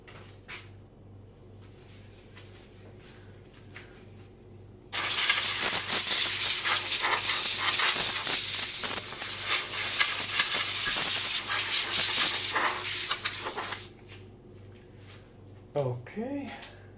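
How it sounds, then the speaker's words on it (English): Compressed air blown over Commodore 1541 disk drive parts, a loud, steady rushing hiss lasting about nine seconds after a quiet stretch, with faint handling sounds before and after. "I will of course give them some compressed air."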